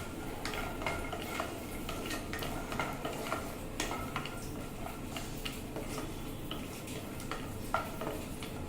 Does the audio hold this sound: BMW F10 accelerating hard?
no